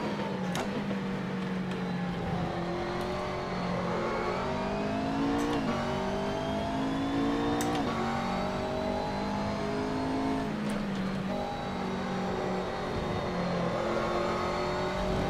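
A McLaren GT race car in Assetto Corsa's Blancpain GT Series career mode, its engine revving loudly and pulling hard through gears, with pitch climbing and dropping at each shift and a few sharp clicks along the way.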